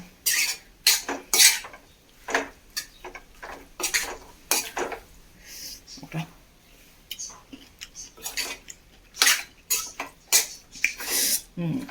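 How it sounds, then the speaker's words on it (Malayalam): A spoon clatters against a pan while mango pickle mixture is stirred, giving sharp, irregular metallic scrapes and knocks, close and fairly loud, repeated many times with quiet gaps between them. "നന്നായി ഇളക്കി യോജിപ്പിച്ച് മിക്സ് ചെയ്ത് കൊടുക്കാം"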